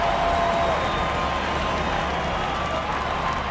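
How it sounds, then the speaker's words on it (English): Simulated baseball stadium crowd in St. Louis from the video game OOTP 25, a dense, steady roar of many voices filling the whole stretch at high volume with no distinct cheers or talk standing out. "The crowd gets louder in St. Louis."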